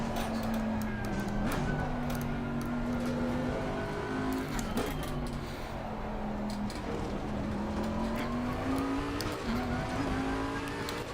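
Race cars in the sim racing game Assetto Corsa Competizione, in VR at Paul Ricard, give a steady loud engine drone that rises and falls with gear changes, with brief downshift blips, continuous throughout.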